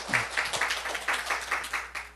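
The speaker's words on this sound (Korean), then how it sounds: "우리 하나님께 박수 올려드려요" A congregation in a Seoul church claps during a morning service, striking steady, rhythmic claps in near unison at about four per second. The sound is fairly faint and somewhat distant, with no voices over it.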